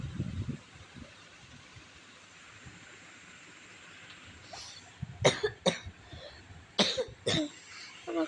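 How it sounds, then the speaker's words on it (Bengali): A person who has a cough and fever coughs and clears their throat. After a quiet stretch, several sharp, close coughs come in uneven bursts near the end. "আমার কাশিও হয়েছে,"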